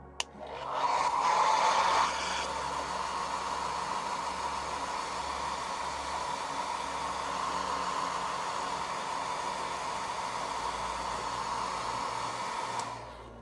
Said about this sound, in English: Get the hair dryer out again.